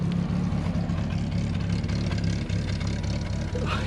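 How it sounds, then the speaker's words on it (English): A Volkswagen Golf engine runs on 70% absinthe as fuel, idling with a steady low rumble that stays loud and continuous throughout, a faint hiss layered above. "A Volkswagen Golf running on Absinth."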